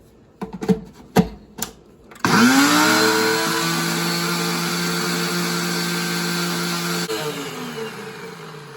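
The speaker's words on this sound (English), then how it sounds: "I'm gonna add the sugar now. Why not? Grind it all together." A grinder or blender whirs loudly for several seconds as cocoa and sugar are ground together for a 1631 chocolate recipe, after a few sharp knocks at the start, then dips slightly in pitch near the end.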